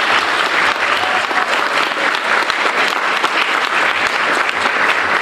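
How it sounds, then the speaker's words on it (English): A gala crowd at a scholarship and awards ceremony gives a round of applause for honorees, loud, dense clapping filling the room steadily from start to finish with no talk over it. "Please give them a round of applause."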